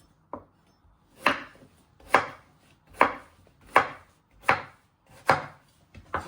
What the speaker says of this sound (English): And then slice them not too thin but into medium sized pieces.